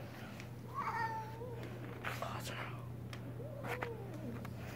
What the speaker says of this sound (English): if I get closer to her, she just starts meowing